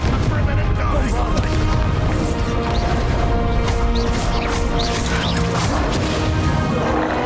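Confringo fire spell detonating in Hogwarts Legacy during a boss fight: heavy booms and crashing blasts fill a dense, loud battle mix with no pauses.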